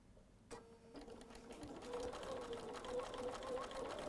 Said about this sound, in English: That just shows us how strong our Bernina really is. It just goes.